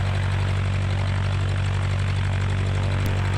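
Cessna 150 light aircraft with engine idling after run-up, a steady low drone and propeller hum that fills the sound, close and continuous with no talk.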